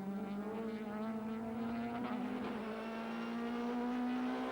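Touring cars, including a BP Nissan Primera, racing neck and neck at Killarney circuit in 1998, a loud, sustained engine drone that rises slowly in pitch as the cars accelerate together, with no talk.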